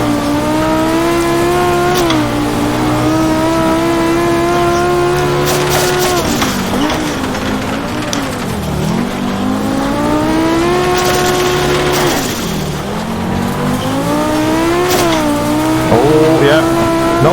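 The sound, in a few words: Group B Audi rally car engine on gravel hillclimb, from a racing video game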